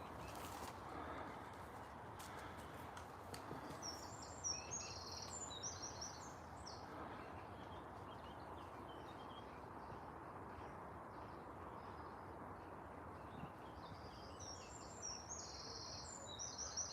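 A bird sings in an urban park, giving faint, scattered high chirps and short phrases over a soft, constant background hum of the city.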